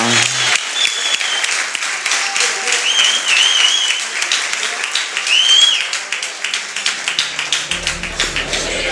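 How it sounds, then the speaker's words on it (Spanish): A crowd claps steadily for several seconds at a pike fishing competition awards ceremony, dense applause with a few whoops, thinning out near the end. "Un aplauso"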